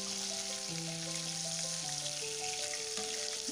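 Chicken frying and sizzling in a pan as it is stirred, a steady close hiss running throughout with no one speaking, while a faint melodic tone line sits quietly underneath.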